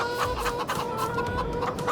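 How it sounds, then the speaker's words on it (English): Chickens in Farming Simulator 22 cluck in a busy, overlapping chorus of short, repeated calls, fairly close and steady, with no speech. "we'll go the full 20 chicks on this, 20 chooks on this one, and we'll buy that"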